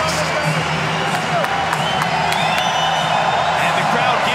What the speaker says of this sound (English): And the crowd giving Murthel a lot of love in the corner